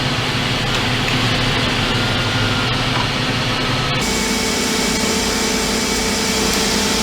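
A Dodge Dakota engine runs steadily with the air conditioning and blower on high, a continuous broadband whir and hum with a slight shift in tone partway through.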